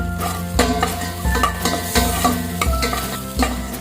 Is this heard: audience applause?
no